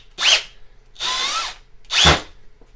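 A Milwaukee M12 FUEL hammer drill/driver with its clutch set to 16 drives 1 1/4 inch wood screws, making three short, close whirring bursts separated by brief pauses.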